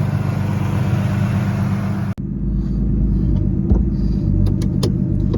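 Turbocharged BMW E36 car rolling out of a garage, a steady close engine rumble with a brief dropout partway and a few light clicks near the end.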